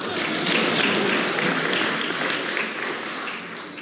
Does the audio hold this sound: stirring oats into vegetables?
no